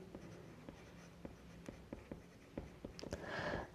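Pen writing words by hand during a biology lesson, quick scratchy strokes and taps in an irregular rhythm, close and quiet, ending with a louder rustle, with no talking.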